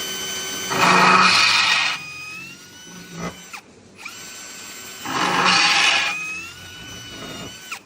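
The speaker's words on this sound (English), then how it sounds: "Then we'll just drill a larger hole." A power drill whines in two loud bursts as it bores a hole through compact laminate, each lasting about a second, with quieter mechanical rattles and clicks between them.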